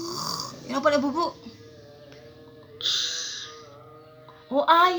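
A voice imitates a father's snoring, producing three snorting, throaty bursts separated by quiet pauses.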